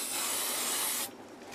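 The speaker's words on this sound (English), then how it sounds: "when I spray a fixative over that" An aerosol can of matte, non-yellowing workable fixative sprays over a soft pastel drawing, giving a steady, close hiss for about a second before cutting off, with no talking.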